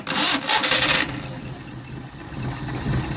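A Maruti 800 carburetted petrol engine cranks and catches, loud at first, then settles into a steady, lower idle.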